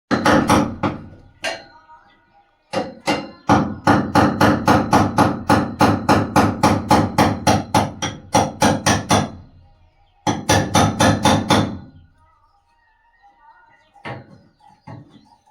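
Nails being hammered into a pipe fitting during home repair work: bursts of rapid, loud, close metallic strikes in steady rhythm, with pauses between runs and a few scattered knocks near the end.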